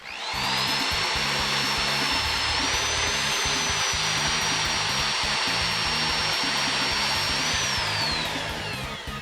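A power drill spins its bit through an acrylic panel for an arcade stick build, a loud, continuous high whine that holds steady for several seconds before tapering off at the end.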